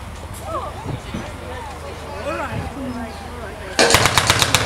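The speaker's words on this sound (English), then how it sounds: "Now the paratrooper there using his Sten." A 9mm Sten submachine gun fires a rapid burst of about half a dozen sharp shots at a 1940s WWII reenactment, loud and outdoors, following crowd chatter and talk.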